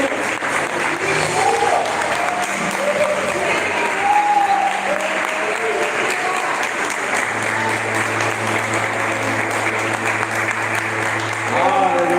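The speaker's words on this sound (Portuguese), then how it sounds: "Pode aplaudir o Senhor, porque Ele é digno." Church congregation applauding during a family worship service, steady clapping throughout with voices calling out over it and a sustained musical tone entering partway through.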